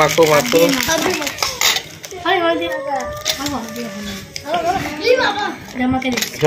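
Spiced puffed rice (jhal muri) being mixed in a bowl at home, with spoon and bowl clatter and scraping close by, mostly under steady talk from adults and children.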